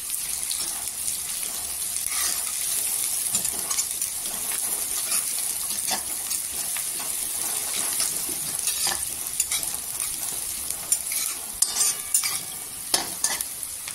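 Sliced onion frying in a pan for Schezwan noodles while being stirred, a steady bright hiss with frequent scraping taps of the spatula that grow busier toward the end, close and without speech.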